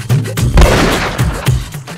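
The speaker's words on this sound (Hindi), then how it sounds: "बाहर किसी ने ना पिस्तौल की गोली चलाई है।" A single pistol shot goes off outside as a loud, sharp burst with a brief rumbling tail, set among quieter surrounding sounds.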